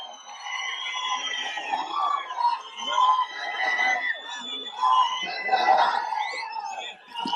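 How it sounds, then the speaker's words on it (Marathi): Wrestlers cheering at a political rally in Sangli after a candidate is announced, a loud crowd of shouts and whoops rising and falling steadily for several seconds. "उमेदवारी जाहीर झाल्यानंतर सभेला उपस्थित असलेल्या पैलवानांनी एकच जल्लोष केला"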